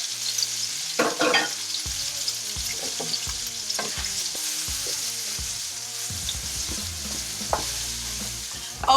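Bacon and mushrooms fry inside a Ninja Foodi with a loud, close sizzle, broken by scraping, clattering stirring noises that come and go. Nobody speaks.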